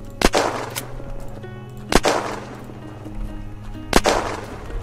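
Gunfire in the video game Unturned: three sharp shots spaced about two seconds apart, loud and close, over a steady low ambient hum with no talking.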